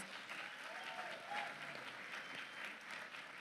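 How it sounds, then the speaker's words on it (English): Applause from a ceremony audience, steady and fairly distant, a broad even patter of many hands sustained throughout with no talk over it. "may we please give Dr. Meyer a round of applause"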